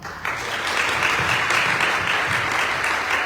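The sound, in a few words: audience applause welcoming a conference speaker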